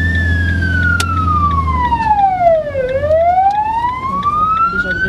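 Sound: ambulance siren

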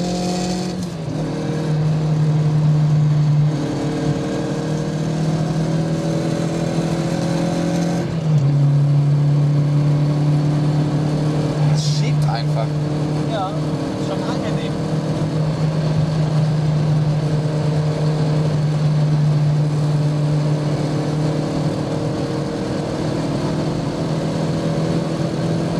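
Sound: Mazda MX-5 NC car engine accelerating at high speed

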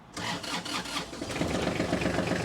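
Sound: Kubota tractor diesel engine starting

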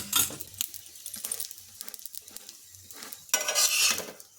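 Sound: methi aloo paratha roasting in oil on a pan

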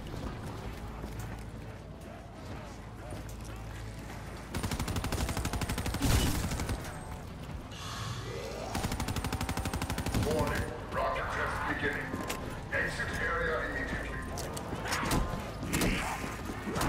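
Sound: gunfire in video game Call of Duty Black Ops III

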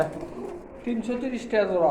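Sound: pigeons cooing in a pigeon shop

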